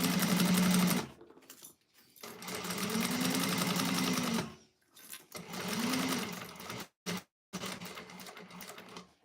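A sewing machine runs in steady, fast whirring bursts while stitching across the short ends of a fabric bowler bag, pausing briefly between runs and starting again.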